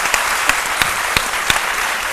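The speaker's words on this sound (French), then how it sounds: "Vous pouvez encore vous applaudir." Studio audience applauds on a midday TV programme, a dense continuous close wash of clapping with a few sharper individual claps standing out.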